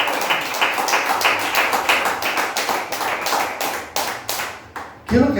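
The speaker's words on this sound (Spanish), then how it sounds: "Denle fuerte aplauso al Señor," Pentecostal church congregation clapping in a quick, strongly rhythmic unison beat, loud and steady, ending with a short burst at the close.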